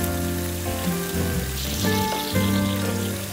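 Bacon and halloumi fry on an outdoor griddle with a steady, close sizzling crackle that holds throughout, with brief bursts of louder spitting.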